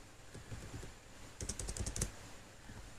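Python code being typed on a computer keyboard: a quiet run of soft key taps, with a denser burst of clicks near the middle, close and faint with no speech.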